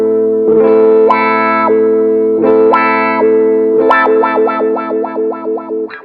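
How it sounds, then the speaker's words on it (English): Electric guitar played through a vintage wah pedal, with distorted notes whose tone sweeps from dark bass to bright treble, several sustained phrases and then a quick repeated rocking wah at the end, loud and close. "the vintage wah, I really like it because the sweep is really short"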